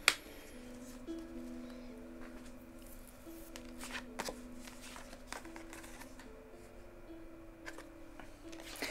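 Tarot cards are shuffled and drawn by hand, making soft, quiet riffling and light ticking clicks that come in small bursts over a faint, hushed room background.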